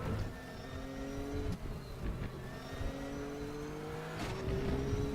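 A GTR3 race car engine in the Raceroom racing game at Silverstone drones steadily with low revs, pitch climbing through gears with a couple of sharp shift breaks.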